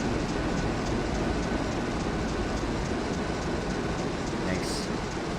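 A Chinese steel train pulls out of a platform in Transport Fever, a steady rolling rumble with a faint rhythmic clatter running throughout, loud and even.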